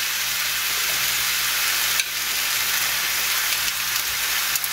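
Chicken thighs fry in a pan on a burner with a steady, dense sizzle and crackle, close and continuous, with a few small pops.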